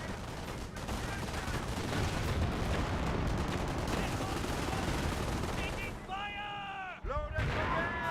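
Mortar shells and gunfire in Company of Heroes, a WWII strategy game, roll as a dense, loud continuous barrage with sustained crackling blasts, then briefly drop before a sharp impact near the end, with voices in the background.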